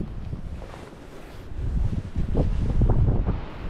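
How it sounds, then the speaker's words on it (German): Wind buffeting the microphone while ultralight fishing at a fjord in Denmark, a loud, steady low roar with rising gusts throughout and no talk. "Zwar habe ich den Wind von vorne"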